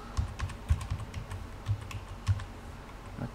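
Password keys tapped on a computer keyboard while setting up a Hikvision DS-KD800 IP PoE intercom, about a dozen close, quick, uneven clicks with a slightly heavier keystroke near the end, no talking.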